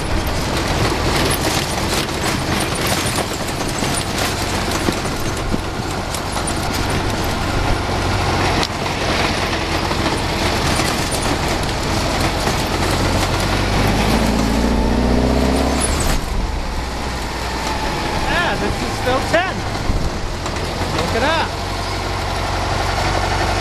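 A vehicle engine idles along a trail in third gear with a low, steady rumble and broad road noise, with occasional knocks and rattles over rough ground.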